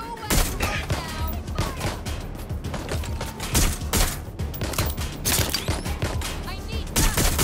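Gunfire in the video game Watch Dogs Legion, rapid loud bursts and repeated sharp shots crowding the scene, close and continuous with shouting voices mixed in.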